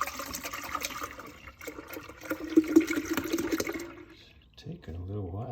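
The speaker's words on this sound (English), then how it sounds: "Then I'll just pour this milk" Milk pouring steadily into a jar, gurgling and rising in pitch as it fills, then a brief pause followed by a voice speaking.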